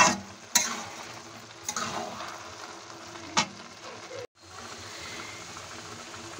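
A spoon scrapes and clacks against a pan while grated carrot halwa cooks with ghee, soft sizzling underneath broken by several sharp stirring knocks and a brief silent gap.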